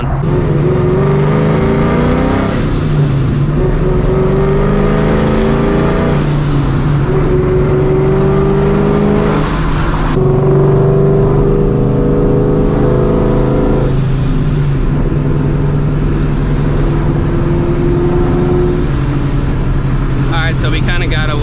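A supercharged New Edge Ford Mustang GT, around 450 horsepower, drives on the road with its V8 loud and close, pulling through repeated rising gears under acceleration, with brief shifts between pulls.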